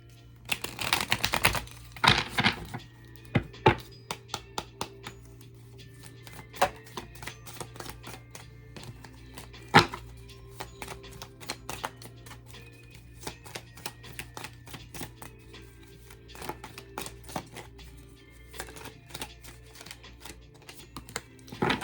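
Rapid crisp clicks and flutters of tarot cards being shuffled close by, in several bursts with short pauses, over a low steady hum.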